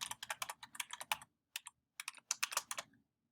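Keys on a computer keyboard tapped out in quick bursts while a password is entered, a close, dry clatter with short pauses between runs of strokes and no voices.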